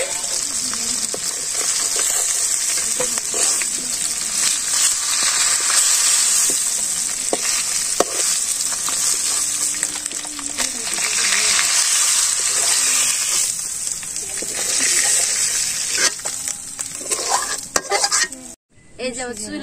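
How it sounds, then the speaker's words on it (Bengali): Pangas fish frying hard in hot oil gives a steady, close, loud sizzle with occasional stirring and utensil scrapes throughout, cutting off briefly near the end. "এই যে মাছটা আমি কড়া করে বাইরে নিছি, পাঙ্গাস মাছটা এখন আমি নামাই দিই।"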